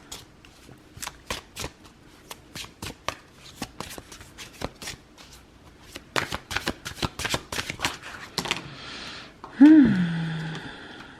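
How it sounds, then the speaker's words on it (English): Oracle cards being shuffled and pulled for a reading, a run of crisp riffling clicks and slaps close by, followed near the end by a brief voice. "So I'm pulling oracle cards, pile 1, from the Meet Your Guides card from JJ Cons"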